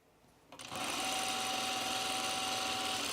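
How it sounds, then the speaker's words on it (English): A sewing machine stitches a curved seam on a 1930s-inspired blouse, starting up after a brief pause and then running in a loud, steady, continuous whir right up close. "I sewed this in such a really wiggly seam, so I'm glad I'm trying to kind of correct this"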